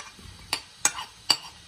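Chopped onion dropped into melted butter and olive oil in a pressure cooker for bean stew, giving a few quiet separate crackles and scrapes of stirring, each brief and soft.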